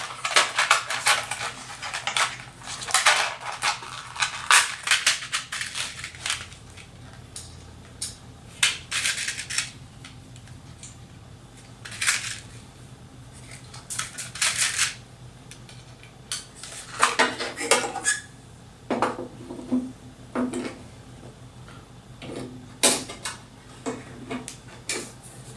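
Metal washers handled at a woodworking circle-cutting jig, giving intermittent light metallic clinks and rattles in scattered bursts, close and fairly quiet, with no talk.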